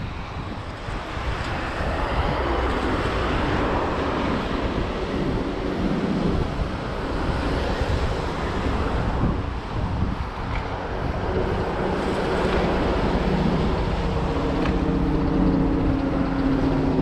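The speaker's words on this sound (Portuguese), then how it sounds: "Não vou falar nada pra gente escutar o barulho do mar batendo nas pedras" Sea waves crash against coastal rocks along a seaside bike path in Rio de Janeiro, a steady, loud roar of surf with wind buffeting the microphone throughout and no talking.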